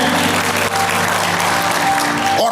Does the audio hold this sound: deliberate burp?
no